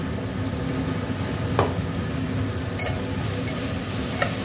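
Onions fry in a pan for mutton curry, giving a steady, close sizzle with a low bubbling hiss underneath and a couple of faint spoon taps.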